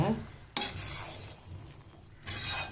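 Wheat rava upma with ghee and chopped coriander leaves is stirred in a pan, a loud scrape at the start followed by soft sizzling and spoon movement, close by, with no talking.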